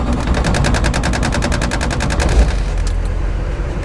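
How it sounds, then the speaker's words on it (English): A Duramax diesel engine swapped into a K20 truck fires up and runs with a rapid, rhythmic clatter of evenly spaced pulses, loud and close, before easing off near the end. "All right, she fires up."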